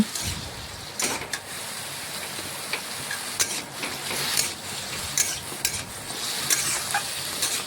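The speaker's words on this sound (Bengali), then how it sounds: "এখন নাড়াচাড়া করে একটু সবজিগুলো ভেজে নিচ্ছি।" Vegetables, including potato, ridge gourd and pumpkin stems, fry in a pan with turmeric and red chilli powder under a soft background sizzle, while a utensil scrapes and stirs in irregular sharp strokes.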